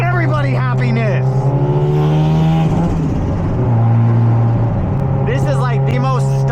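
A Mazda RX-7 FD with a tuned rotary engine making about 400 horsepower runs hard on a dyno, giving a loud, sustained buzzing drone that shifts pitch as it holds and revs. Voices are faintly audible in between.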